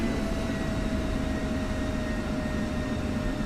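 Constant close jet-engine roar with a thin steady whine as an F-16 fighter rolls off the runway at Anderson Airfield in DCS World 2.9, unchanging throughout and free of speech.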